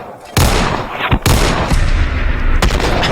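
An IMI Desert Eagle .50AE pistol fires in Fallout 4, giving three loud, sharp booming shots spaced about a second apart, each with a heavy low tail that rings out between blasts.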